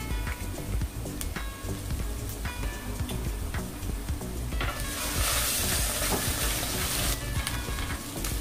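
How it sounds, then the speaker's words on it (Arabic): Kebab mixture sizzles while it is sautéed with pepper in a pan: a continuous loud crackling fry with occasional stirring clicks. The hiss swells brighter partway through. "نحمسها بالفلفل"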